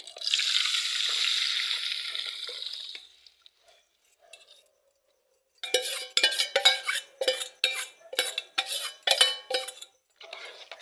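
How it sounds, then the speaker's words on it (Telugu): A spoon stirs buttermilk kadhi in a metal pan, first with a steady hiss and then, after a short pause, with a series of quick scraping and clinking strokes against the pan. "ఇది ఉండలు కట్టుకోకుండా తిప్పుకుంటూ ఉండాలి మధ్య మధ్యలో."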